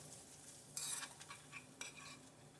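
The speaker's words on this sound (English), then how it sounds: "Hear the sizzling? It's sizzling, guys." Sausages crackle in a pan with soft frying while a utensil stirs and scrapes close by, no voices.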